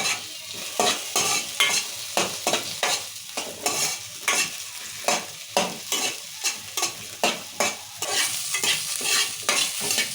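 Onions and green chillies fry in oil in a pan and are stirred steadily, making a close, rhythmic run of scraping strokes over a constant sizzle, with no voices.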